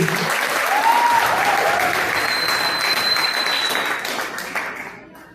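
A church congregation bursts into loud, sustained applause. The clapping is dense and steady, with faint voices calling out over it, and it fades away toward the end.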